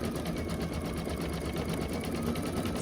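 Domestic sewing machine running steadily, stitching a swirly decorative Celtic-style stitch for a raw-edge appliqué project; a continuous close, even mechanical whir with rapid needle ticking throughout, no talking.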